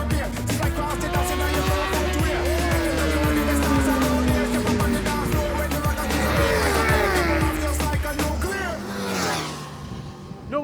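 Kawasaki H2 supercharged motorcycle running on the Buddh International Circuit during an open trackday, its engine note sweeping and shifting pitch as it passes, loud and near, with dense vehicle noise and some voices mixed in.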